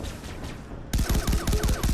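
A sudden burst of rapid gunfire erupts in Far Cry 3 Blood Dragon, loud and close, with repeated punchy shots in an uneven rattle after a quieter stretch of game ambience.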